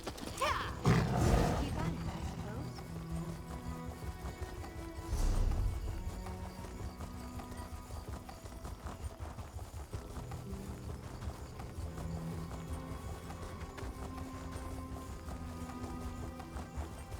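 Horses gallop in Elder Scrolls Online, steady hoof clip-clop running under game music with a couple of louder impact bursts near the start and middle.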